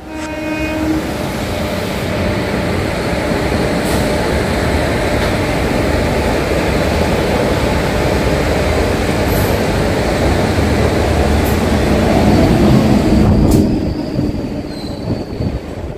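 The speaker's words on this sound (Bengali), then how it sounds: "ট্রেন ধরে আমরা বাড়ি ফিরে গেলাম।" A loud, continuous rumble of a train running on the tracks, wheels clattering and squealing, with a brief horn-like tone near the start.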